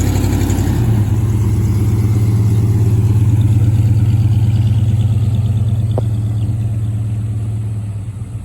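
A car with a damaged exhaust idles loudly and steadily nearby, a deep droning rumble with a rough, rattling edge that holds for several seconds and eases slightly at the end, with no talk.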